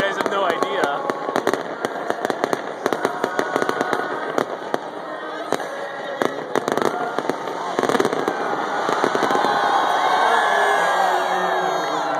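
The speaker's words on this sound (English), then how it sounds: "I love fireworks." Fireworks exploding in a rapid, crackling barrage of sharp bangs and pops, fairly loud and continuous, with a crowd cheering and people talking underneath.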